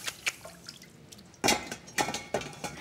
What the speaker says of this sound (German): Gründlich abtropfen lassen.